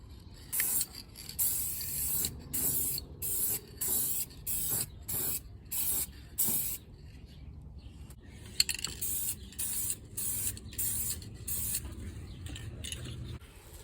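Clear coat sprayed onto a Nissan 370z headlight lens: about a dozen short, close hissing bursts in a steady rhythm with brief pauses between, then a second run of similar bursts.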